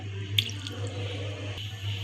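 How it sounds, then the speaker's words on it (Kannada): A cup of water is poured onto jaggery in a pan, making a soft, steady splash and trickle over a low background hum, with no talk. "1 ಕಪ್ ನೀರು ಹಾಕೊಳ್ಳೋಣ."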